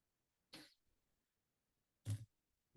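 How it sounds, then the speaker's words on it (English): Two short, sharp bursts, a quiet sneeze followed a little later by a louder, closer sneeze, in an otherwise near-silent room. "I'm sorry, just sneezed."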